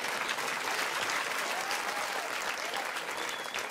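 A comedy club audience breaks into dense, sustained applause, loud and even from start to finish, with a faint crowd murmur beneath it.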